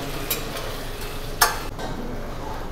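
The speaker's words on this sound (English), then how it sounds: "Once the oil heats up, I will throw the prawn shells into it and saute them for a minute." Prawn shells sautéing in hot olive oil in a saucepan give a steady broadband sizzle, broken by a couple of sharp stirring clacks, one louder near the middle, with no talk.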